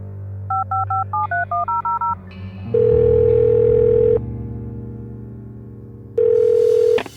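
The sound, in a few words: telephone dial tone in Art of Murder video game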